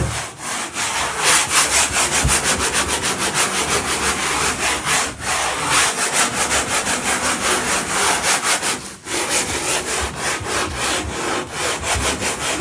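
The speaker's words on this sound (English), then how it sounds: "Well, so it does require scrubbing." Vigorous back-and-forth scrubbing of a grimy bathtub coated with cleaning product, a loud, close rhythmic rasping that runs continuously with only two brief pauses.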